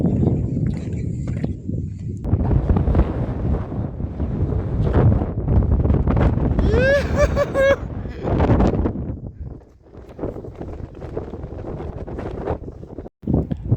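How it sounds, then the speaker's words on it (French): Strong wind gusts of at least 200 km/h buffeting the microphone, loud roaring rushes that rise and fall unevenly, with a voice speaking over part of it. "il y a des rafales de vent à au moins 200 km/h"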